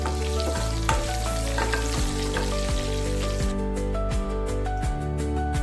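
Two chillies and a pinch of asafoetida fry in oil in a pan for a bende kayi (okra) palya, a steady close sizzle running throughout with occasional stirring scrapes, and no voices.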